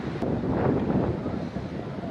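Gusty wind blows outdoors, a low, rough rumble buffeting the microphone in uneven surges, loud and close throughout.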